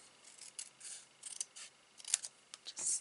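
Scissors snip through card stock in a row of short, crisp cuts at an irregular pace, heard close and quiet without talk.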